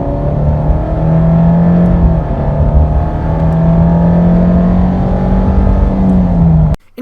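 A car accelerating with the pedal floored makes a loud, sustained engine drone whose pitch climbs and holds, close and continuous, cutting off abruptly just before the end.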